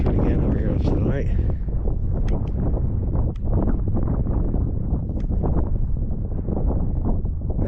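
Heavy wind buffets the microphone in a constant roar outdoors in Antarctica, with rustling gusts and a few sharp clicks throughout.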